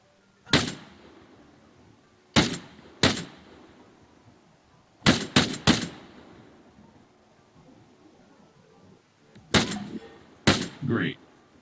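Bursts of video game gunfire aimed at targets: short sharp shots in small clusters separated by quiet gaps, fairly close and loud, with no talking.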